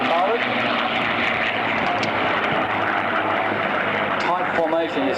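Propeller aeroplanes flying in formation over an airshow, a steady broad engine drone filling the sound throughout with a commentator talking over it.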